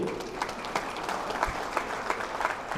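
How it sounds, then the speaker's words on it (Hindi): A seminar audience claps loudly and continuously for a few seconds, a dense burst of applause from a crowded hall. "एक बार जोरदार तालियां इनके लिए।"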